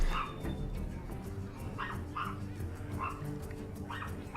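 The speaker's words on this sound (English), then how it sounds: "my dog won't be quiet" A dog barks and yips indoors in several short bursts at a moderate distance, with a steady low hum of background noise underneath.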